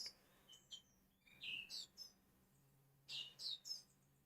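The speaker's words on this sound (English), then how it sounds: "Can you hear the birds tweeting in the background?" Birds tweet outside an open door, a few short high chirps in small bursts, faint and distant over a quiet indoor hum.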